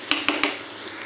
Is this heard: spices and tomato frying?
yes